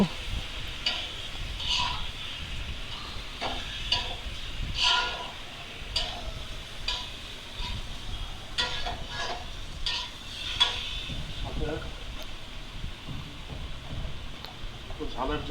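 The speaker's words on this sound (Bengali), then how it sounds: "নাড়ে চেড়ে কষিয়ে নেব।" Spices being stirred and fried in a pot for a bachelor-style biryani, continuous sizzle with scraping spoon strokes, close and steady throughout, with faint background noise.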